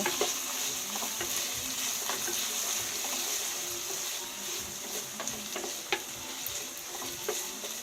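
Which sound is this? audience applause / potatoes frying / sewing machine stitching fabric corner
potatoes frying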